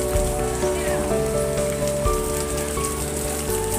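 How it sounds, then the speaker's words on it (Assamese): Light drizzle patters at a temple crowded with devotees, a soft steady hiss of rain under a continuous sustained drone of bells or chanting music that fills the scene throughout. "চিপচিপকৈ বৰষুণো দি আছে"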